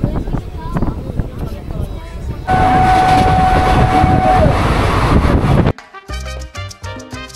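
Train at Ambika Kalna railway station: a loud, rushing rumble swells for a few seconds amid voices and platform noise, then cuts to quieter sound with music.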